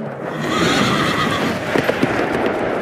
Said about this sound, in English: Another horse, fiery red, went out.